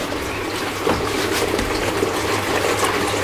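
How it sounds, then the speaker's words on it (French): Water poured into the tank of an aquaponic filtration system on a breeding rack, a steady splashing trickle running without a break, close and moderately loud. "par mettre un peu d'eau"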